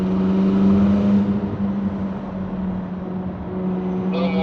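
McLaren 600LT engine during a slow rolling drive, a loud steady low drone with a strong tonal hum, swelling slightly early then holding even throughout.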